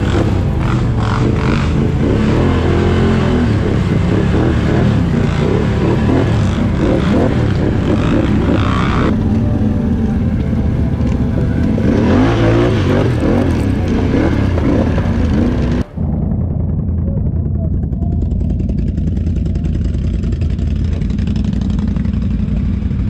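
Engines of ATV quad bikes run steadily and loudly close by, the revving swelling and easing in waves, then a sharp knock and a lower, steadier engine drone for the last stretch.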